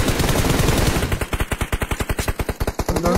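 Rapid automatic gunfire in PUBG Mobile, a dense burst opening into a steady run of about twenty evenly spaced loud shots, close and clear with no talking.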